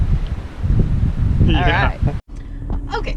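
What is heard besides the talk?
strong wind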